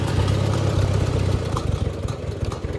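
A 1956 Farmall 100 tractor engine idles nearby with a steady, low, rumbling chug and an even rhythmic beat, heard alone for a few seconds.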